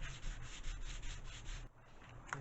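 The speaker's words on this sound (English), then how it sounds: "we're going to go ahead and sand this out" Sanding a wooden fuselage for a pylon racer model plane: a steady, close rasping rub in quick repeated back-and-forth strokes, with a brief pause near the end.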